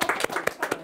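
A few people clap by hand in a short, uneven burst of distinct claps, close and moderately loud, at a ceramics kiln firing.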